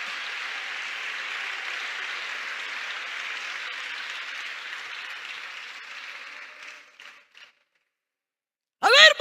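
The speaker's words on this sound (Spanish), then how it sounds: "ese aplauso es para Él de lo más fuerte." A church congregation breaks into sustained, fairly loud applause that fills the room for about seven seconds, then fades into silence before a short burst of sound at the very end.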